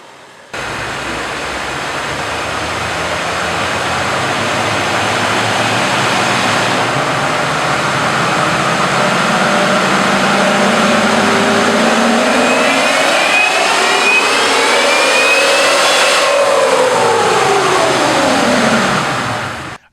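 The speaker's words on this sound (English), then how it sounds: "Now let's get her fired up and head over to our dyno and see the results." A supercharged car engine with a Roots supercharger starts and revs on a dyno, a loud steady roar building into a rising, falling sweep of revs with a whining overtone near the end, no talk.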